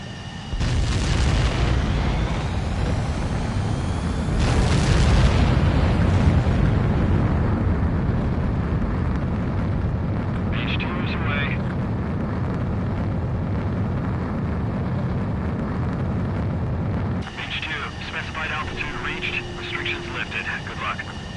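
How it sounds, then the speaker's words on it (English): A fighter jet's takeoff and launch in a video game comes through as a loud, sustained engine roar with a heavy surge a few seconds in. Radio-style talk runs over it throughout, with sharp bursts near the end. "Mage 2, begin takeoff sequence."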